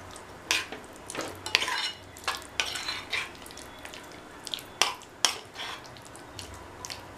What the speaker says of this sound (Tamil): நல்லா கலந்து விட்டாச்சு.